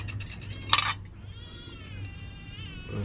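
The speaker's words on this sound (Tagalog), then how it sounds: "Bahugan muna natin yung pusa." A cat meows once in a drawn-out, rising and falling cry close by, over a steady low household hum, with a brief clatter of dishes just before.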